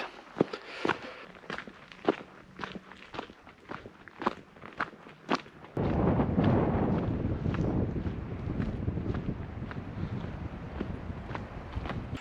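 A hiker walks along a forestry trail in Snowdonia with steady, evenly spaced footsteps close to the microphone. About halfway through, loud wind buffeting the microphone starts and partly covers the steps.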